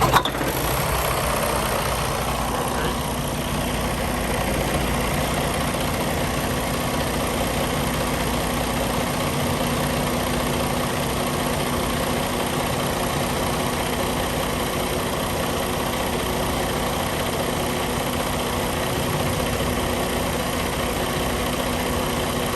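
A 2021 Freightliner Cascadia diesel truck engine remote-starting with a brief crank at the beginning, then settling into a steady, loud, low idle that continues throughout.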